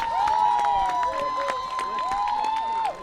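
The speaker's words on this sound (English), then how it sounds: "We'll let our Taunton fans have their moment, giving them a round of applause." Fans at a Division 1 state championship softball game clap and cheer in a steady crowd roar, while whistle-like tones sweep and squeal above the noise.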